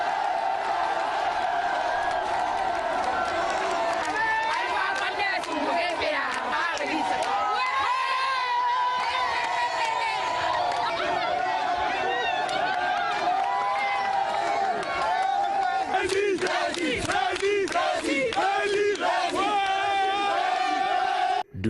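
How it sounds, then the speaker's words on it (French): A roadside crowd of local residents cheers, shouts and calls out loudly and continuously for the president of the Republic of Guinea, with dense voices and bursts of excitement throughout. "Le président de la République est chaudement applaudi par la population riveraine"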